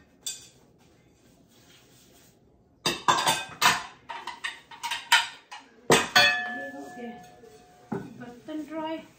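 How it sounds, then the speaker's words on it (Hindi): Washed, dried dishes and utensils are put away in a home kitchen, with a quiet start giving way to a series of sharp clinks, clatters and metallic knocks at an irregular pace. "बर्तन ड्राई जो धुले हुए थे पहले के, इनको इनकी जगह पे रखती हूँ।"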